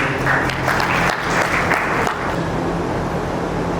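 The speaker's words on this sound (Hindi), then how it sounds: "सबका तालियों से स्वागत किया जाए।" An audience at a national-level education awards ceremony in India claps in a full, sustained burst, close and lively at first and then settling into a steadier, slightly softer patter without any talk.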